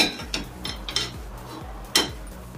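A metal pan set down on a stove burner, heard as a few close clanks and knocks of metal with a sharper bang near the end, no voices.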